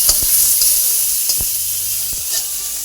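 Broiler chicken pieces fry in hot oil with a steady sizzle, broken by a few sharp clinks of a utensil stirring the pan.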